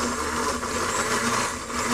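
A blender grinds apricots, garlic, tarragon and dill in a continuous, even whirring roar, loud and close, with no talking.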